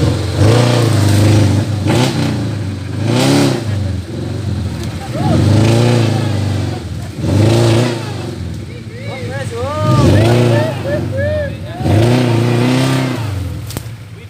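Off-road 4x4 jeep engines rev hard in repeated surging bursts during an extreme tubular off-road event in Banyuwangi, Indonesia, loud and close, with people shouting in the background.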